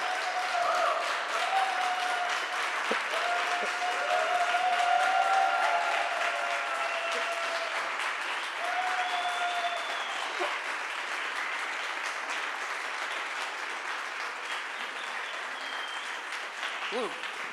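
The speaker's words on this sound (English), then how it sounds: "You clap your hand" An audience applauds after a speech with a long, continuous wash of clapping that lasts well over fifteen seconds, with voices and calls mixed in and a gradual slight easing in loudness.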